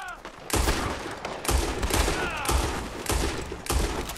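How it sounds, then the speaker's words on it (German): Several bursts of gunfire come from the Red Dead Redemption Online video game, with repeated heavy shots in quick clusters close by and a voice briefly heard underneath. "Die schießen!"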